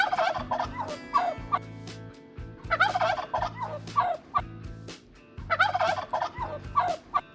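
A turkey gobbles in loud, rapid, warbling bursts, three clear calls spaced a couple of seconds apart, close and alone over a low steady hum, with no talking.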